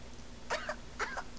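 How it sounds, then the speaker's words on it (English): Two small, quick cough-like bursts from a Breath of Fire: Dragon Quarter video game character, soft and short against a low hum. "Adorable little cough."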